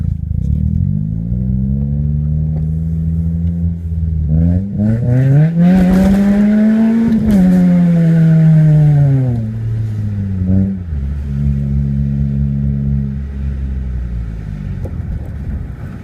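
A lowered Honda Civic EM2 engine is driven hard in the rain at night, a loud close rumble that revs up, holds high, then drops back to a steady drone inside the car.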